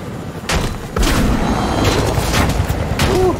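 Gunfire in the Fortnite video game: a few loud booming shots and thuds in quick succession, close and punchy, against a busy game soundscape with no talk.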